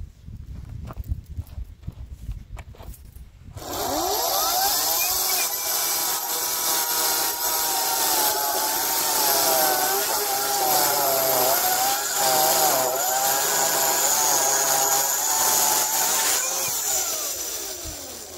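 A chainsaw fitted with a Stihl progressive depth gauge chain cutting through wood. A few seconds of quiet handling lead into a loud, close, sustained cut lasting about fourteen seconds, with the engine pitch wavering under load.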